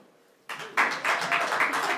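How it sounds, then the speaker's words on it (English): An improv theater audience breaks into clapping after a brief quiet moment, a dense, steady round of applause that holds at moderate loudness to the end. "Round of applause, who knows what Musical Monday is,"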